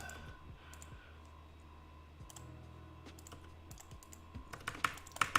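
A malfunctioning computer keyboard being typed on: soft, irregular key clicks over a constant low hum, building to a quicker burst of sharper taps at the end, with no talking.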